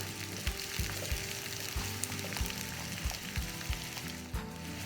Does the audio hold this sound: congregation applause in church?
no